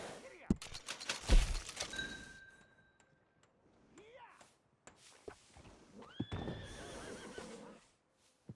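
In the Red Dead Redemption 2 video game, a horse gives several whinnies and neighs among scattered thuds and hoof knocks. Calls come near and clear, with quiet stretches between them.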